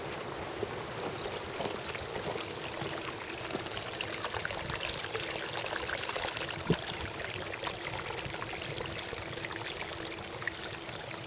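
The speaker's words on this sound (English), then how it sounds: "that's already a lot of water coming out of that well" Water gushing steadily from an airlift water well pump in Elgin, Texas, a continuous close, loud splashing stream with a broad hiss, alone without talking.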